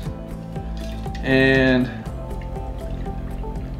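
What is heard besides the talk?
Bloody Mary mix poured into a glass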